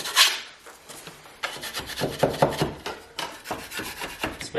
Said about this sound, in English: the next thing we gotta do is just scrape off any little high spots